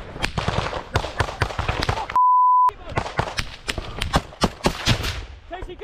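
Heavy gunfire rattles through a trench assault, with dense bursts of rifle and machine-gun shots in quick succession, broken once by a short steady electronic beep, with shouted voices under the shooting.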